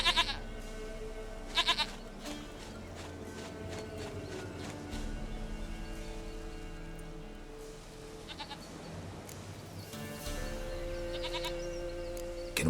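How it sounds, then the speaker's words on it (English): A goat in The Witcher 3 video game bleats in a few short, clear cries over a quiet game backdrop with faint ambient tones and hoof-like steps, with no talking. "Goat of mine, dearest,"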